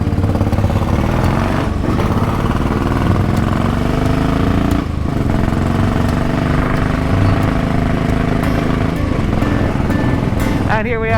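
Royal Enfield Bullet 500 motorcycle riding on Irish roads, its steady engine drone loud and continuous with shifting pitch through the ride, with a brief burst of wind or handling noise near the end.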